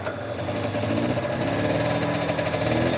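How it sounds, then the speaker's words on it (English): A small engine running rough on one cylinder with a single carburetor, giving a steady, buzzing, uneven drone at close range throughout, with no talking. "Bog's still there. That doesn't sound good. It's only running on one cylinder."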